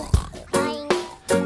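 A voice imitates a pig oinking in a children's animal-sounds song, giving three nasal grunting oinks spaced evenly, close and clear.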